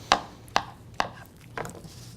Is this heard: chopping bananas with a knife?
yes